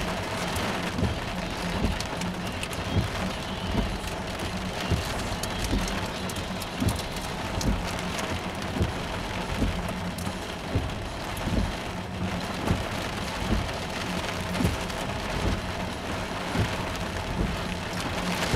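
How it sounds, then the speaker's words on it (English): Heavy rain pounding down during a thunderstorm in southwestern Saskatchewan, a dense, continuous roar of drops hitting surfaces with steady intensity and scattered sharper splats, no voices, about eighteen seconds. "It's raining too hard."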